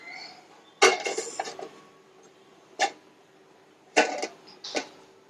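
A metal lid being set over a pan holding an eggless whole wheat jaggery cake on a gas stove: four separate clattering bangs, the first a rattling cluster and the later ones short and sharp, close by in a quiet kitchen.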